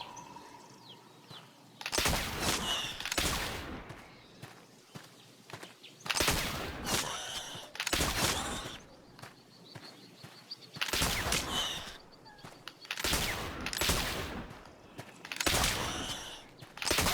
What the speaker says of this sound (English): Rifles are mighty loud, you know.